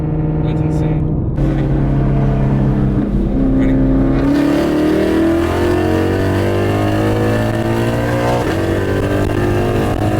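An 800 HP Shelby GT500 with intake, tune and full exhaust accelerates hard, its loud engine note rising steadily through the gears as a close, continuous roar with voices underneath.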